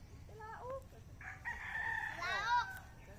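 A backyard farm rooster gives one long, strained crow that sounds oddly hoarse and unusual. It is close and fairly loud, with a few short clucks just before it.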